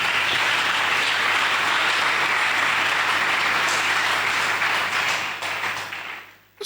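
A church congregation applauding, a loud continuous roar of clapping that holds steady and then tapers off at the end.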